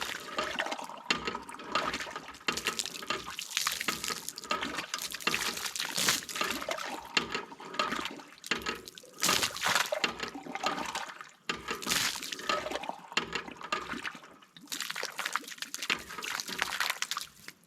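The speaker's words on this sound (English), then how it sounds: "Takes about a pump and a half for an ice cold glass of water." Water from a hand pump drawing Michigan groundwater, gushing and splashing in repeated surges with the pump's stroke rhythm, close and steady throughout.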